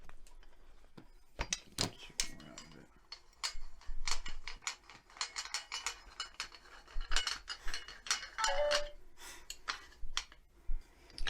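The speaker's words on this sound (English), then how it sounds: "then you just turn the whole crank, and it'll expand out and secure itself against the trusses" Irregular clicking and ratcheting as the crank on an expanding ceiling fan remodel box is turned to brace it against the roof trusses, close-up, with short mechanical snaps and pauses between turns.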